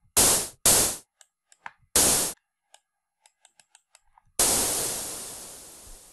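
Synthesized snare hits made from white noise in LMMS's Kicker plugin: three short, loud hissing bursts, then sparse faint clicks, and finally a long noisy hit that slowly fades away.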